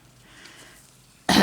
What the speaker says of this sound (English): Sorry about this. Clearing my throat.